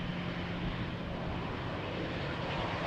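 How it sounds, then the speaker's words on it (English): An EasyJet airliner landing at Amsterdam Schiphol gives off a steady, broad roar of jet engine noise that holds at an even level throughout, heard from a distance with no voices. "Although the pilot did not royally apply the reverse thrust on that landing."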